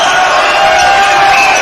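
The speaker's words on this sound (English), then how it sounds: "the crowd below us are getting quite raucous" Raucous crowd cheering fills an indoor arena during a men's under-20 basketball game between Queensland and Tasmania, a steady loud roar of many voices with no single sound standing out.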